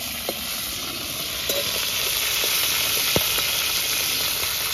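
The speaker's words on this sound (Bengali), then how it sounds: "এদিকে মাছটাও ভাজা হয়ে গেছে।" Rita fish fries lightly in a pan of hot oil, a steady, close hiss and sizzle with occasional small pops and crackles running throughout.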